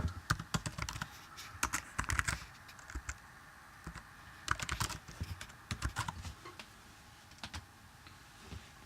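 Commands typed on a computer keyboard for a bash scripting tutorial, bursts of close, crisp key clicks with irregular pauses between them.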